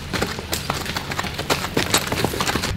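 Horse hooves clip-clopping on a street in a Mexican mountain village, quick irregular knocks close by, mixed with background outdoor noise.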